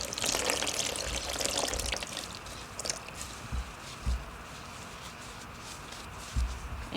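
Water is poured for rinsing with a washcloth during perineal care, starting with a fuller splashing pour and settling into a soft trickle with occasional dull thumps nearby.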